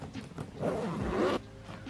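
A zipper on a makeup kit bag is pulled open in one quick, close rasping run lasting about a second, with softer fabric rustling before and after.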